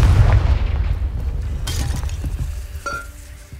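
A Confringo spell exploding in the game Hogwarts Legacy: a loud, deep boom that rolls off over a few seconds, with glassy shattering crackles and a faint clink as it fades.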